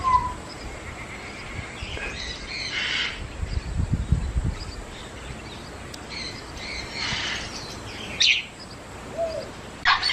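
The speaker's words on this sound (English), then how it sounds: "parrots for sure" Parrots and other caged birds such as budgies or finches call from a mixed aviary, with scattered chirps and squawks rising over a steady background hum, some calls nearer and louder than others.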